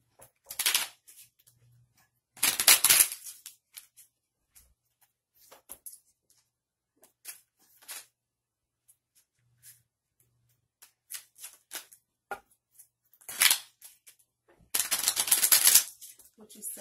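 Playing cards are shuffled at a blackjack table in several separate bursts of crisp, close riffling, with quiet pauses and light handling sounds between them.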